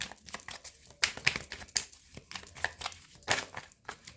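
Tarot cards are shuffled and handled close up in a series of soft, papery crinkles and flicks, with uneven bursts and brief pauses.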